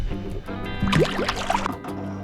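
A walleye released back into lake water from a boat, a brief splash and sloshing in the middle of the clip over low background noise.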